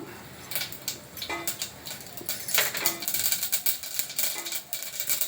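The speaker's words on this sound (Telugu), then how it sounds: "నూనె హీట్ ఎక్కాక ఆవాలు వేసేస్తాము." Mustard seeds crackle and pop in hot oil in a pan while sambar rice is cooked. A close, irregular spatter of sharp ticks builds and becomes denser midway through.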